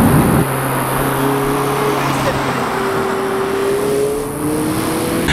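A 2017 Mazda MX5 RF driving, with a steady engine drone and road noise from inside the car as the pitch slowly rises, with a voice faintly underneath.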